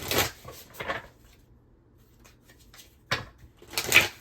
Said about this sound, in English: I'm going to try to shuffle the cards over here so I'm not in her way.